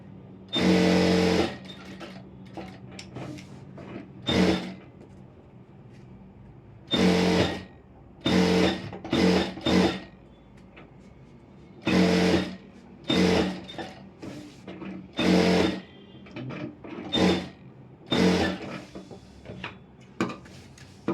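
A sewing machine stitches around the edge of an Aari work blouse in repeated short runs of about a second each, separated by brief pauses. The bursts are close and moderately loud, and no one speaks.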